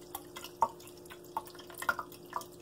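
Celery and carrot juice dripping from a juicer as it is shaken: scattered, irregular small drips and plinks, quiet and close, with short gaps between them and no talking.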